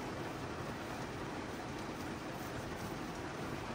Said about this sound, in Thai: พอดีฝนตกเอ้า